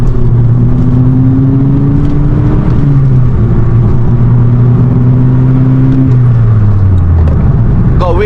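Engine of a Volkswagen Golf GTI on a road drive, a loud steady drone that drops in pitch as the gear changes, falls off toward the end, and carries a cabin hum throughout.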